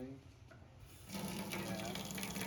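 Tap water starts gushing about a second in and keeps up a steady, fairly loud rush, filling a container during an indigo dyeing session.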